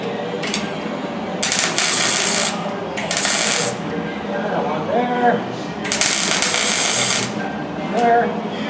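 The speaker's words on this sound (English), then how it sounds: "Then we'll go back where we used to be welding." MIG welding bursts on the body of a chopped 1950 Ford shoebox, three or four loud, close crackling buzzes of one to two seconds each, separated by short gaps filled with workshop noise.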